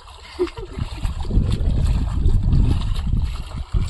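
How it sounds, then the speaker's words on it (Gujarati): Sea waves splashing and rumbling close by, a steady low churning wash with a brief splash near the start and another toward the end, loud and continuous. "સમુદ્રની લહેર ભાઈ"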